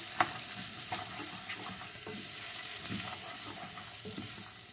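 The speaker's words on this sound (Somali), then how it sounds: "kabashkan kusoo shiilaya" Shredded cabbage fries in a pan while being stirred, a continuous close sizzle broken by scraping stir strokes at an irregular rhythm, with no talking over it.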